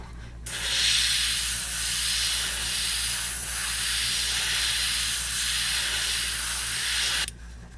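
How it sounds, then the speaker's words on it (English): An airbrush sprays paint onto a scale model in one continuous hiss of about seven seconds, steady and close, with a slight buildup on the brush. It starts and stops abruptly, and no voices are heard. "Probably have a little bit of buildup on my airbrush there."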